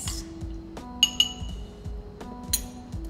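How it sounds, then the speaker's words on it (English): Bright glass clinks and pings as a spoon stirs a lemonade cocktail in a glass, several light taps spread unevenly over a low steady background hum. "Then you want to give it a stir, just make sure all the ingredients are mixed."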